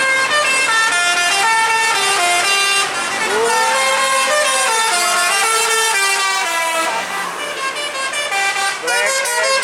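Indonesian Basuri telolet horns on a bus play a loud, melodic sequence of stacked musical tones, their pitches stepping and gliding without a break throughout, alone and close with no talk.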